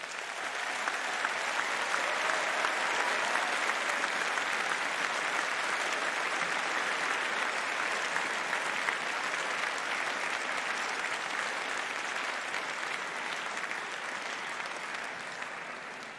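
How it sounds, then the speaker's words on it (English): An audience at a Faculty of Medicine graduation ceremony applauds the medical graduates, a dense, steady wash of clapping that holds loud and even for about sixteen seconds before easing slightly at the end. "Please join me in a round of applause to the graduates."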